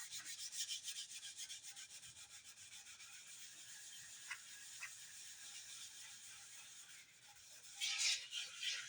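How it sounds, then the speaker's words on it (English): Steady scratchy rubbing of sandpaper on a wooden guitar body, repeated back-and-forth strokes, close up, with a couple of sharper scrapes near the end. "the reason I'm sanding this"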